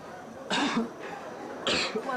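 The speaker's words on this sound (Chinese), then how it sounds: "您别咳嗽，您一咳嗽吐沫星子。" A person coughs twice in short, close bursts a second apart, with quiet room tone between.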